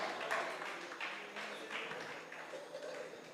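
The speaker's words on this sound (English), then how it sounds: "Give them a round of applause." Applause from a prize-giving crowd at Sugar Mas 48 for the SKN Bull Troop from Green Valley, a soft, steady wash of clapping that stays faint and distant throughout.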